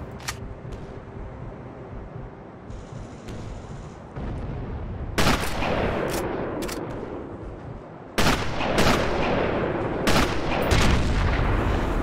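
Sniper rifle fire in the Sniper Elite game during a U-Bahn station mission: several loud, sharp broadband shots spaced a few seconds apart, each trailing off over steady battle ambience.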